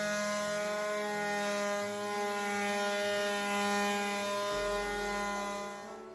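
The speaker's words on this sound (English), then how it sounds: "I've sanded down the front, sanding the back now." A power sander works steadily on the back of a wooden door, a continuous close whine with a strong constant pitch and a slight change in tone toward the end, no talking.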